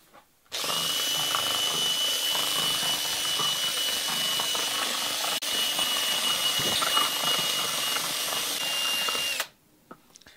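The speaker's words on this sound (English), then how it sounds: "Like to go with a good solid 30 seconds to a minute of mixing with the drill on the resin there" A power drill runs continuously for about nine seconds mixing epoxy resin during boat building, a steady loud whine close by with slight churning variation, starting and stopping abruptly with no talk.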